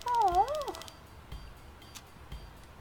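A kitten in a point-and-click adventure video game gives one clear, bending meow, followed by quiet background sounds and faint clicks.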